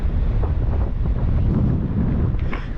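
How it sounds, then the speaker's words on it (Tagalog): Strong wind buffets the microphone outdoors on a ride toward Tayak Hills in Rizal, a loud continuous rumbling roar with gusty surges and no speech. "lakas ang hangin"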